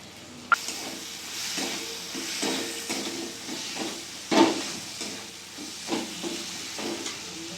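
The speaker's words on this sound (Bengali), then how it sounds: "মশলাটা ভালো করে কষিয়ে নেব।" Spice paste and chopped tomatoes fry in a pan for a chicken curry, giving a steady close sizzle and hiss broken by occasional stirring scrapes and a louder clatter near the middle, with no voices.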